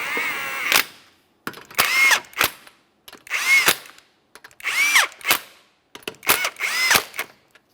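A power tool snugging lug nuts onto a wheel of a 2015-2019 Subaru Outback, several short whirring bursts that rise in pitch and stop abruptly, loud and close, separated by brief silences.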